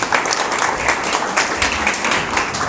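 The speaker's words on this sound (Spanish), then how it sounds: "le damos un aplauso de bienvenida," Steady applause from a church congregation welcoming a pastor, dense clapping that fills the whole moment without letting up.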